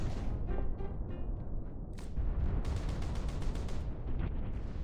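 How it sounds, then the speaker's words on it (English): Gunfire in the video game Reverse: 1999, a run of heavy booming shots and bursts over a low rumbling backdrop, loud and spread across the scene. "I hear his gunfire."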